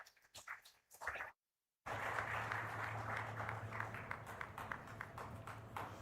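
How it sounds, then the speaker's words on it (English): An audience at the inaugural session of a sustainability summit applauds, a dense, steady round of clapping that follows a brief stretch of talking and a short pause. "Ladies and gentlemen, a round of applause for His Excellency, Dr. Bharat Jagdeo."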